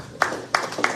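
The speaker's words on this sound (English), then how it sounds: "let's give them a big round of applause" Three separate, evenly spaced hand claps ring out in a quiet hall at a hall of fame ceremony, each short and sharp.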